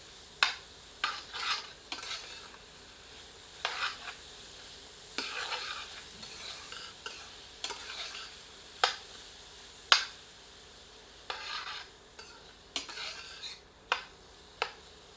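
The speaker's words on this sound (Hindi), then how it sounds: "सबको मिलाकर 2 मिनट और भूनते हैं।" Mutton curry masala seasoned with salt and turmeric is roasted and stirred in a pan with no oil, a spatula scraping in repeated sharp strokes over a faint steady sizzle, with no voices.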